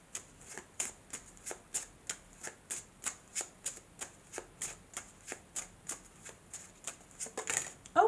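Lenormand cards are shuffled in a steady, brisk rhythm of about seventeen crisp, close riffling bursts, with no talk.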